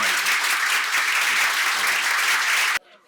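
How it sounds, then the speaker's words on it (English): Audience at a school transition event breaks into brisk, close applause for students, full and steady for nearly three seconds before it cuts off abruptly. "Can we all give our students a huge round of applause"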